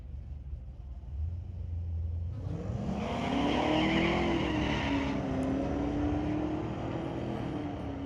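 Chevy pickup trucks, including a 1983 C10, launching in a street-legal drag race at Mission Raceway Park, with engines rumbling then roaring up through rising revs, loud and sustained, with no talk.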